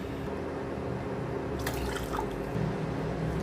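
Cold water pours from a container into a pan of kesaribath mix, a soft, close, gurgling trickle that lasts a couple of seconds, with no talking.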